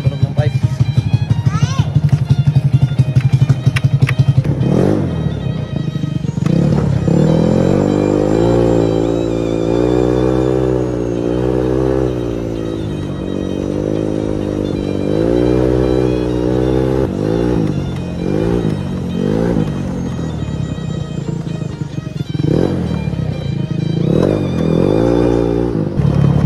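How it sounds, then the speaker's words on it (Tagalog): A Yamaha Fino scooter fitted with a Mutarro exhaust pipe revs and rumbles loudly on a road test, its engine note rising and falling through repeated accelerations with a rough, throaty drone, while someone talks over it at times. "Grabe yung tunog ng pipe."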